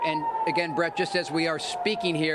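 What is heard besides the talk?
air raid sirens sounding in Tel Aviv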